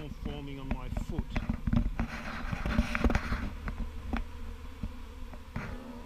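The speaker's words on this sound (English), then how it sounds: "I've got a swarm forming on my foot" A honey bee swarm forming on a person's foot outdoors in Ballarat drones with a dense, continuous buzz close by, with scattered faint taps and rustles mixed in.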